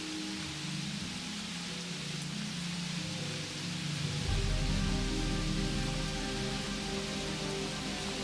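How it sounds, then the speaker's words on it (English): Steady rain in World of Warcraft's Barrens, a dense, even hiss of drops on the ground that swells a little heavier partway through, with a low rumble underneath and no voices. "Rain can be bothersome, yes, particularly for those used to warm and dry locales"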